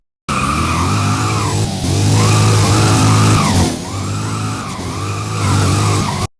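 Chevrolet Corvette C6 engine in the Driving Empire video game, loud and steady with revs rising and falling in two long sweeps, a whining drifting edge and tire squeal, no talking.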